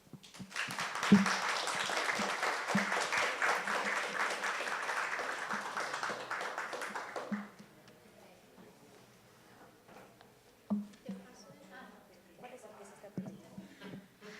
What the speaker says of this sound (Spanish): con otro aplauso más, por favor